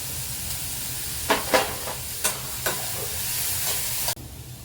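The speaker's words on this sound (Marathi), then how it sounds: "उग्र वास जाईपर्यंत आपल्याला परतून घ्यायचं आहे. आलं लसूण पेस्ट, टॅमॅटो सुद्धा घालून घेणार आहे." Ginger-garlic paste and tomato sautéing in a pan for masala pav, with a steady close sizzle and several sharp scraping stirs before the frying sound drops abruptly.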